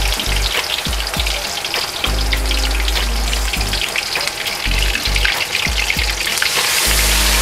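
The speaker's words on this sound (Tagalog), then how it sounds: "Kaya sobrang init na nung mantika, magpiprito na tayo nung ating chicken." Chicken pieces frying in very hot oil, a loud, steady crackling sizzle with dense popping spatter throughout, close up and with no talk.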